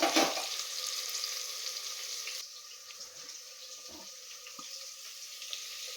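Okra fries in a pan for sambar with a continuous hiss and sizzle. The sound is loudest at first, then settles into a softer, steady fizz with a few faint pops.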